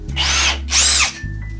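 A Milwaukee cordless drill driver compared with a cheap AliExpress drill, running in two close, loud bursts of high motor whine, each spinning up and winding down, with a steady low hum between them.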